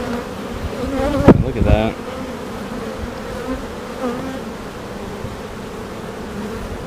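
Honeybees hum steadily around an open hive full of brood frames, a dense continuous buzz with a brief louder burst as a bee passes close; a voice briefly speaks.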